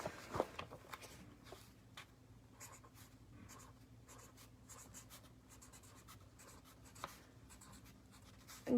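A pen scratches across paper, handwriting a short message in quick irregular strokes, close and quiet with no talk.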